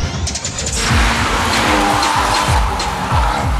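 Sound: tires squealing on a rally car

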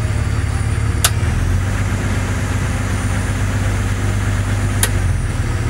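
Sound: Jeep Cherokee XJ engine at extended fast idle in park

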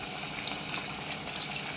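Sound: water being poured into cooking pot for crab soup

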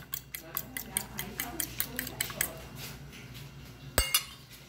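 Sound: spoon scooping cornmeal (fubá) for an omelette

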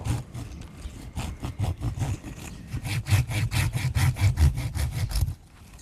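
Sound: hand saw cutting tough tamarind bonsai wood

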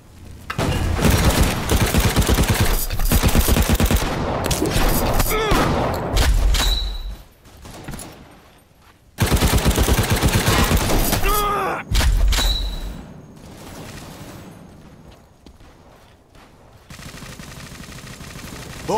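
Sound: gunfire in a war video game

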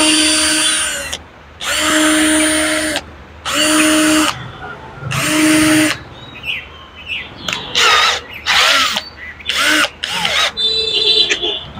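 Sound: battery hammer drill running

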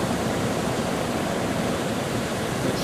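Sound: soliton waves on the River Carron, Stonehaven, Scotland

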